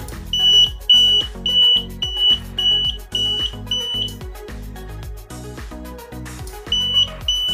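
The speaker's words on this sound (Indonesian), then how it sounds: "Ini untuk alarm keamanan rumah." A homemade door security alarm for a house sounds in repeated electronic beeps with a steady pulsing rhythm, loud and close, layered over busy background tones.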